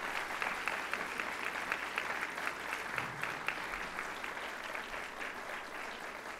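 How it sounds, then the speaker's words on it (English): Steady, sustained applause from an audience at a NASA honor awards ceremony, following a performance by the Woodside High School Meistersingers, even dense clapping throughout at a moderate, slightly distant level. "Let's give them a round of applause."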